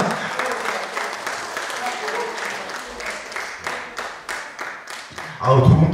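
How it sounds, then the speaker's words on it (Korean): Audience applause at a senior model selection pageant, a steady wash of many hands clapping for several seconds before a loud voice cuts in near the end. "여러분 박수 한번 주세요."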